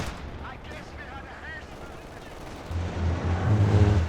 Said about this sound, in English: Katyusha firing again.